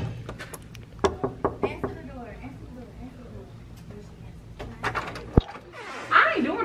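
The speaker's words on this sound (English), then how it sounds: "Answer the door." Someone knocks on a door in a rented vacation apartment: a quick series of sharp raps, fairly close, with voices talking over and around them.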